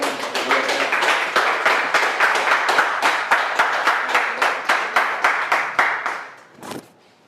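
A congregation at a Messianic worship service claps in steady unison, about three sharp claps per second for six seconds, then stops abruptly with one last faint clap.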